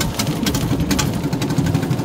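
A racing bangka's engine runs at a boat race on Talim Island, a close, rough, pulsing mechanical chug with a fast irregular beat and no talking.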